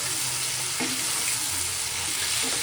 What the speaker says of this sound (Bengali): এখন মাছ ভাজার মধ্যে দিয়ে দেবো বেগুন।